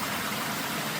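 Mill Creek flowing through a gorge below waterfalls, a steady broadband rush of water that holds even and close throughout, with no voices over it.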